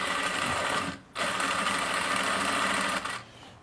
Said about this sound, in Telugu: ఈ అంచు మీదే ఈ థ్రెడ్ని పెడుతూ థ్రెడ్ పక్కనే కుట్టు పడేటట్టుగా స్టిచ్ చేసుకోవాలి